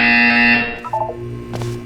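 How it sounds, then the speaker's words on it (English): An electronic buzzer from the Portal 2 video game sounds loud and steady for about half a second, then cuts off, leaving a few faint softer tones and a low hum. "You will hear a buzzer."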